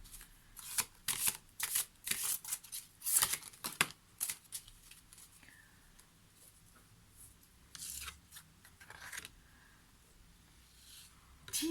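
Viking oracle cards being shuffled by hand, with a quick burst of soft riffling and flicking over the first few seconds, then quieter scattered card sounds, close and faint.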